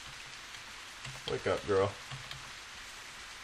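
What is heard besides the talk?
rain falling in video game The Path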